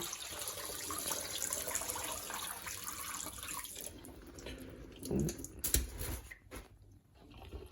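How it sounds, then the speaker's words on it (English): A soaked sequinned garment is lifted from dirty detergent water in a utility-room sink, water running and dripping back into the basin, sloshing louder midway then tapering into scattered drips. "Let me actually remove it from the water."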